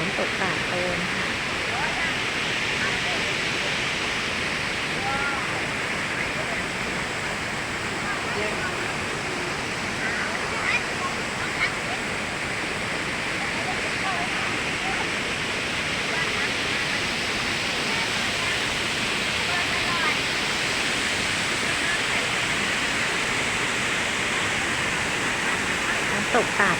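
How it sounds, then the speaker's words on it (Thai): A stream rushes steadily below Tat Ton waterfall in Chaiyaphum, Thailand, a constant broad hiss of flowing water heard nearby. "อันนี้เป็นลำธารของน้ำตกตาดโตนค่ะ"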